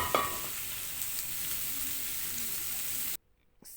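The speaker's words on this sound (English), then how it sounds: "I'm going to fry our onions until they turn golden brown" Onions sizzling in hot oil in a pan while tripe is being cooked, a steady soft frying hiss with a brief stir at the start, cutting off abruptly near the end.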